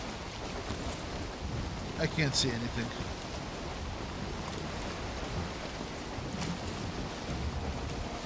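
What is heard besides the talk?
rain and thunder in a swamp in a video game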